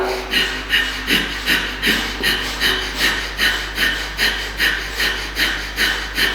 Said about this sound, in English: Can you breathe fast and hear yourself louder?